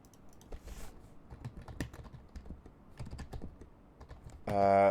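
Someone types on a computer keyboard in a quick, uneven run of close clicks and taps, and a louder, sustained noise ends the passage.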